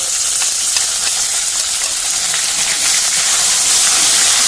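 Chopped tomato fries in hot oil in a pan for Bengali rohu fish biryani, giving a loud, continuous close-up sizzle that holds steady throughout, with no talking.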